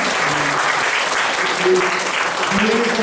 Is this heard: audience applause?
yes